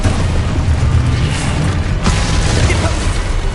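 An Exposo explosion spell cast in a Hogwarts video game, a heavy booming burst with rumbling low end and a sharp crack partway through, loud and close over continuous game noise.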